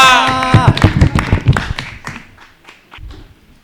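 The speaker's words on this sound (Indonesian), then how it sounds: "Beri tepuk tangan yang meriah untuk Nanda." At a stand-up comedy competition, a voice opens and is followed by a burst of quick, close handclaps for comedian Nanda, which thin out and trail off.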